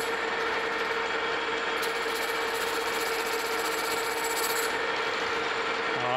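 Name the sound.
lathe making an interrupted cut on steam engine clutch part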